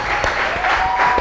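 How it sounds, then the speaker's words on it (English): A studio audience at a cooking competition applauds contestant Richie's meal with a steady, fairly loud wash of clapping throughout. "give Richie a big round of applause for the meal"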